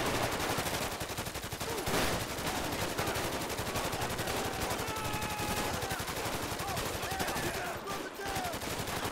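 Gunfire during a GTA 5 Online mission, dense rapid automatic bursts and overlapping shots firing almost nonstop, loud and close, with brief lulls and a voice talking faintly underneath.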